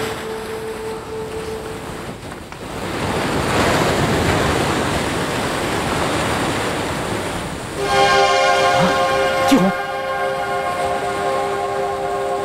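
Wind and surf by the sea make a steady broadband roar that swells after a few seconds; sustained musical tones enter near the end.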